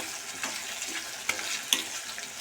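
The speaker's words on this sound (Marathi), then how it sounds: "चांगले परतून घेणार आहोत आपण याला" Flat beans (papdi) frying in oil with onion hiss and sizzle steadily in a pan, with a few soft stirring scrapes and clinks rising out of the continuous crackle; no voices.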